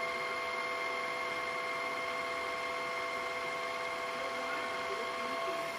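A TAB T6 Pro cordless wet-dry vacuum mop runs continuously, its motor producing a steady whirring drone with high tonal whine as it scrubs and squeegees water off the floor.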